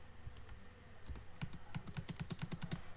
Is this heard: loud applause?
no